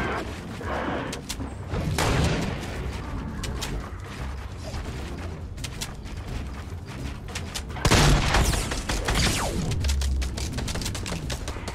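Rapid gunfire bursts from a Fortnite match during a duos fight, dense repeated shots and mechanical clatter with a heavier burst near the end, steady and fairly loud throughout.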